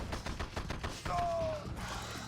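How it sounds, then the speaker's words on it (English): Infantry GIs being shot in the real-time strategy game Red Alert 2: rapid bursts of gunfire rattle in a steady rhythm, loud and close, with a short whistling tone cutting through midway. "The GI's being shot."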